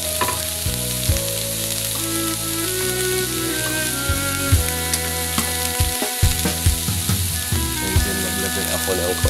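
Tomatoes sautéing with fish in a pan for ginisang alukbati, a loud continuous sizzle close by, broken by scraping stirs and clatter, with brief speech in the background.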